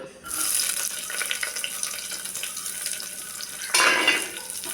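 Shallots fry in coconut oil in a pressure cooker while cooking Ramadan nombu kanji, giving a close, steady sizzle that swells into a louder hiss near the end, with no speech.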